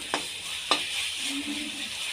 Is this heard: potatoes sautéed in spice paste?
yes